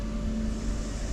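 Horn of a 2023 Ford Mustang Mach-E GT, one steady, loud blast heard close up from inside the car and held for just over a second with no voices.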